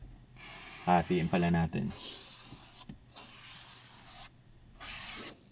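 All Around foam cleaner sprayed from a can in three long hissing bursts, fairly close, following a short stretch of talk at the start.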